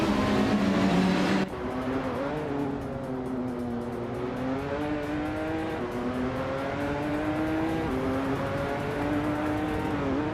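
Race car engine of a 2018 Toyota FT1 GTE in a racing video game, a loud sustained drone with steady rising and falling pitch as it holds speed, following a brief louder burst at the start.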